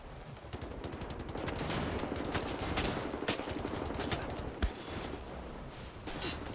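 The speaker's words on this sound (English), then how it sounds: "Who's shooting me from where?" Rapid automatic gunfire rattles almost nonstop in Wolfenstein: The New Order, dense bursts of machine-gun shots with sharp cracks, loud and close, running the whole stretch without pause.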